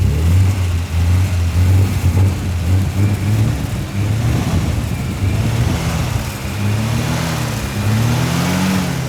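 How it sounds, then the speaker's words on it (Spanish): The engine of a 1974 Torino Coupé Lutteral Comahue 175 runs close and loud, with a low, throbbing rumble that rises and falls through several revs, sounding alone without talk. "El motor del Comahue."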